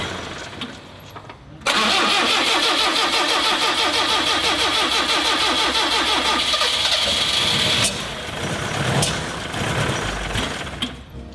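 A 1974 Citroën CX engine is cranked by the starter for several seconds with a fast, rhythmic churning, then catches and runs at a loud, steady idle, close by with some rattling.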